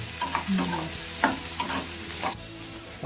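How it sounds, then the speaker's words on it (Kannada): Okra and potato frying in a pan with a steady sizzle, broken by several distinct stirring scrapes and clinks of a utensil against the pan, with no voices. "ಅಡಿಗೆನವ್ರೆ ಚೆನ್ನಾಗಿ ಕೆಂಪಗಾಗಬೇಕು ಹಂಗೆ ಫ್ರೈ ಮಾಡ್ಕೊಡಿ. ಕ್ರಿಸ್ಪಿ ಆಗಬೇಕು ಹಂಗೆ."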